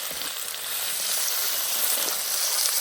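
Lily bulb and sliced gashanxiao root stir-fry with lean pork in a wok, giving a steady, loud, broadband sizzle that holds continuously with no talk.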